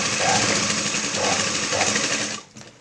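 A sewing machine stitches the shoulder seam of a dhoti dress, running as a steady loud whir with a fast mechanical chatter for over two seconds before it stops abruptly near the end.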